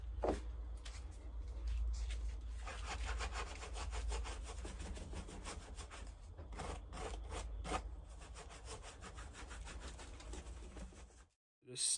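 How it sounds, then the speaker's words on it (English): Brush back scraping excess material off a textured reptile-enclosure background, a steady, close rasping scrape that keeps up for several seconds and then cuts off briefly near the end. "I generally just go with the back of the brush and just scrape out that excess, dab all the outsides"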